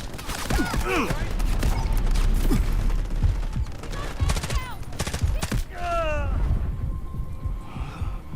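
Rapid gunfire in the video game Delta Force crackles in loud, close bursts and scattered shots, mixed with mechanical clatter and game effects, while people talk over it.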